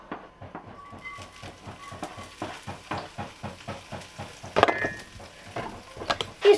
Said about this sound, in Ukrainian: сразу на на пательню и всипаємо всю цибульку